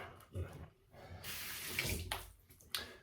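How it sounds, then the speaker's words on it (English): Tap water runs into a basin for a quick rinse during a head shave, splashing steadily in bursts with a couple of pauses, close by and fairly quiet, no talking. "very quick water rinse"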